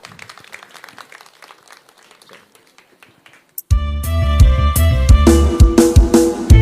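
An audience at a northern Thai festival stage claps in a thin, scattered round to welcome a singer, fading over a few seconds before loud band music abruptly starts up.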